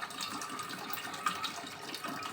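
Plain tap water poured from an ordinary bottle into an electric kettle, a steady broadband gush and splash running continuously at close range with slight fluctuations, no talking.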